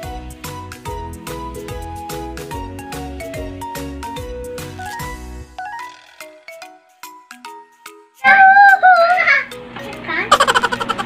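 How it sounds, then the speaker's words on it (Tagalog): Noisy children chatter and shriek in a home kitchen behind music-like tonal patterns and an electronic melody, their lively voices rising loudly near the end in several bursts. "Ang ingay ng mga bata"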